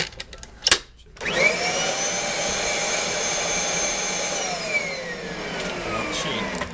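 A Kirby Sentria 2 upright vacuum cleaner switches on after a couple of sharp knocks and runs with a loud, steady whine. The pitch dips slightly toward the end, and no one speaks.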